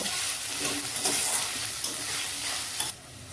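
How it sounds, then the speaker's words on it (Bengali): Ginger paste is sautéed in oil for a vegetarian paneer dish, giving a close, constant sizzle with scraping stir strokes. The frying noise drops away sharply just before the end. "এই আদাটাকে ভালো করে কষে নেব"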